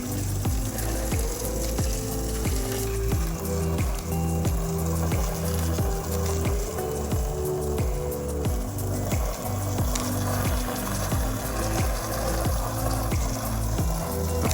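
Pressure washer spraying water to rinse soap off windows: a steady, loud rushing hiss of water with a continuous mechanical drone beneath it, close by, running unbroken throughout.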